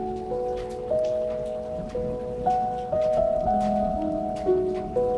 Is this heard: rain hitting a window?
yes